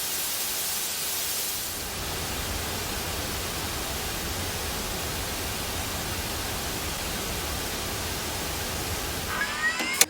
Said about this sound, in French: Maintenant que tu comprends la raison pour laquelle le bruit rose nous paraît plus équilibré à l'écoute